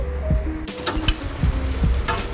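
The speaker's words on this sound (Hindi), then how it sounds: "अब इसमें मैं घिया डालूँगी।" Grated bottle gourd hits a hot pan for momo filling, giving a loud, close sizzle with scraping stir strokes and a few utensil knocks over a couple of seconds, no voices.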